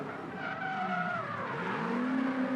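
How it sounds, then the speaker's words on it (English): An LS V8-powered Subaru BRZ drift car sliding at a pro drift qualifying event, with a continuous loud tire squeal whose pitch sweeps and wavers over a roaring engine, heard without any talking. "Cars being driven in anger."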